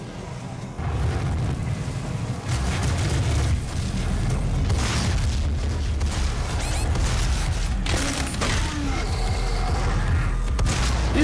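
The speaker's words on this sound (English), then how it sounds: "We're doing a lot of shooting" Gunfire and explosions in DOOM (2016) while fighting demons, a dense continuous barrage of loud booms, blasts and rapid shots with no break.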